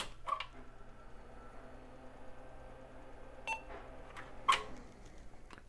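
Short electronic beeps from a floppy drive machine board with a compact flash to IDE adapter, faint and sparse against a low hum, a few isolated chirps spaced across the quiet.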